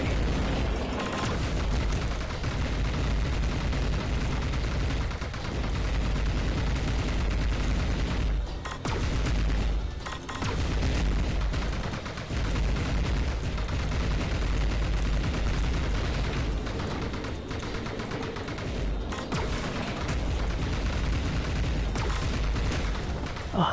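Rapid-fire shots in the Panzer Dragoon remake for PS4, a dense and continuous barrage of game gunfire and booming blasts that stays loud throughout, with only brief dips in intensity.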